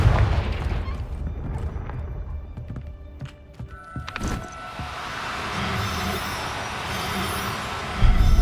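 A Confringo fire spell blasts in the video game Hogwarts Legacy on PS5, a loud continuous rumbling roar with a sharp crack partway through and another heavy burst at the end, thick game ambience throughout and no talking.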